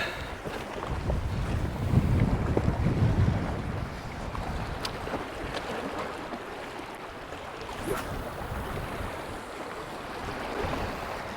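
Strong coastal wind blowing during lure fishing, heard as a rough, continuous roar buffeting the microphone. It is loudest early on, with faint wave-like wash beneath and no voices.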